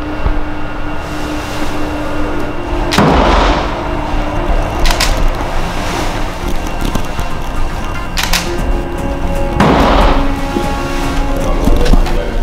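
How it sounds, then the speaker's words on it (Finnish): Gunfire at a shooting range aimed at a metal plate with a hole in the middle: several sharp, loud reports spaced seconds apart, each decaying quickly, over a steady background noise with no talking. "Tuossa on ihan ampumarata, missä ammutaan semmoista peltistä levyä, missä on reikä keskellä"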